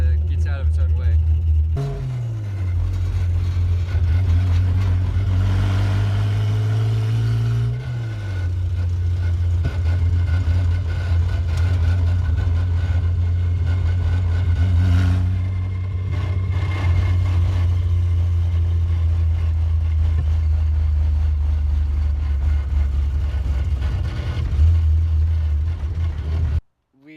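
Toyota Supra engine running steadily under load, a loud low drone that climbs in pitch, drops, then holds while driving, with brief talk over it and a cutoff at the end.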